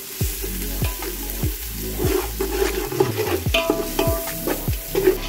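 Tomatoes frying with salt in an oversized 10-kilogram pot for vegetable biryani: a steady sizzle broken by loud, repeated scrapes and clanks of a spoon against the metal, close by, with no talking.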